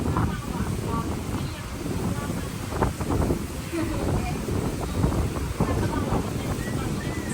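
Steady wind buffets the microphone at a beach resort on Phi Phi, Thailand, as a storm approaches, a continuous rushing roar with faint surf and murmuring voices underneath.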